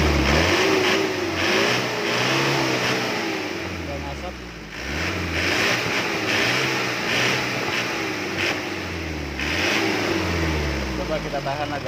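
An Isuzu Panther diesel engine, which has white smoke and a loss of power, revs up repeatedly in a rising and falling rhythm over a steady idle. It is close and loud, and someone talks over it.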